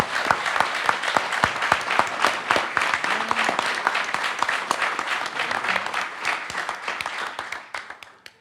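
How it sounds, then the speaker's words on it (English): Audience at a bill signing gives a sustained round of applause, sharp close claps amid a dense crowd patter, with faint voices underneath, tapering off at the end. "give these people a round of applause."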